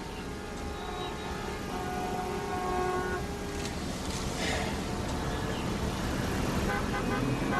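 Traffic jam with cars idling and honking, a steady dense roadway drone under sustained horn tones that hold throughout, fairly loud and continuous.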